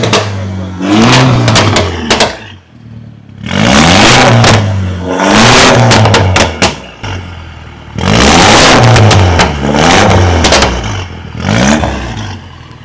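A Mini Cooper engine revs hard through a loud Borla exhaust in several long bursts, snarling up and dropping back with crackles between pulls, close by.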